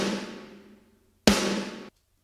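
Snare drum sample from the Dr. Bob Killer Kit: two loud, close snare hits, the first ringing out into a long decaying wash of room sound, the second cut short, with no other sounds.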